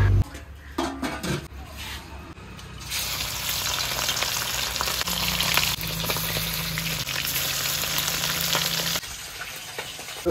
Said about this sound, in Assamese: এইফালে আমাৰ মাছ ভাজি একদম ৰেডি হৈ গ'ল